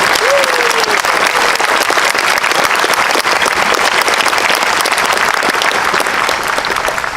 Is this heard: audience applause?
yes